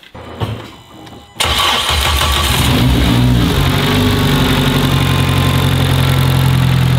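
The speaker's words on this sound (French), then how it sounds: "Bon, normalement tout est raccordé, ça devrait démarrer." A Renault Megane 3 RS engine cranks briefly, then fires up with a loud roar and settles into a steady, rumbling idle nearby.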